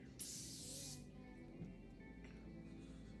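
A single close, airy burst of makeup setting spray lasts under a second, followed by a fainter second spritz against a quiet background.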